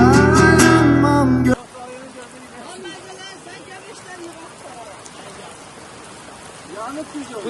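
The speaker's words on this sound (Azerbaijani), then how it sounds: "Bir dənə yağış yağır." Steady rain patters across the scene in a village in Qax district, a soft continuous hiss after a brief loud musical burst at the start, with faint scattered drips and murmurs underneath.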